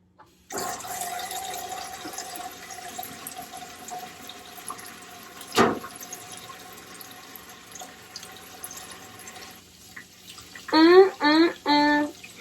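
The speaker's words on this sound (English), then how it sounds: "So we get the germs off by washing our hands." Hands being washed under a running tap at a home sink, a steady stream of water lasting most of the clip, interrupted by one short knock, with a few bursts of talking near the end.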